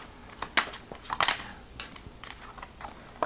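Tarot cards drawn and handled, giving a few short papery snaps and rustles at close range, with quiet shuffling in between and no speech.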